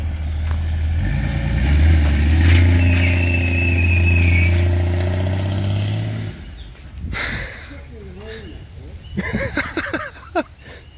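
A 1964 Ford XM Falcon engine running loud and close for several seconds with a steady low drone, then dropping away as voices chat in the last part.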